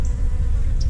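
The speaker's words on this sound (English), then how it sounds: "Bunch of bees flying." Bees fly in a steady, close buzzing hum around a 1:1 peppermint syrup feed on a warming day; the drone holds continuously with no voices.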